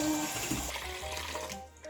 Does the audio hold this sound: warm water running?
yes